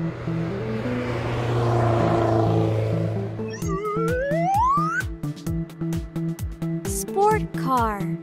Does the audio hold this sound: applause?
no